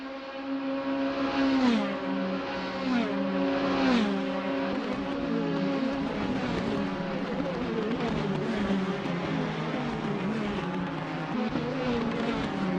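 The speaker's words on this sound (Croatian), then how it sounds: "Evo Amar vozi najbrži krug." A Praga R1 race car lapping Catalunya circuit during a Croatian championship race, its engine a sustained loud drone with shifting revs and gear changes, steady throughout with no talk.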